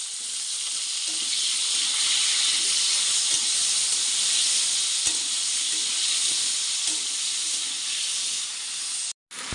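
Potatoes and spices frying in hot oil, a loud, steady sizzle and hiss that carries on without pause.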